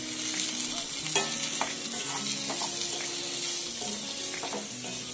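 Boiled potatoes being stirred into a spiced masala frying in a pan for Marathi batata bhaji: steady close sizzling with repeated scraping stirs throughout, no voices.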